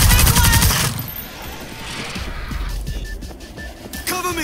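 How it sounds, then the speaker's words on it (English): Rapid bursts of gunfire in the game World War Z: Aftermath, Tokyo level, crackle loudly amid dense, chaotic noise, with a sharp volley at the start and more firing near the end. "Gunfire! From the bus!"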